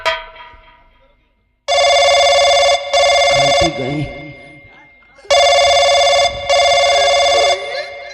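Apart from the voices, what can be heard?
telephone ringing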